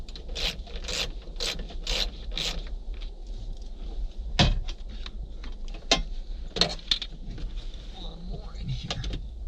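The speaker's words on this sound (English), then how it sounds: "Make sure the ratchet's the right way." A hand ratchet clicks in a quick, even series of about six strokes while tightening the screws of a replacement LMC glove box in a 1973-1980 Chevy square-body truck, followed by scattered knocks and clinks with someone talking.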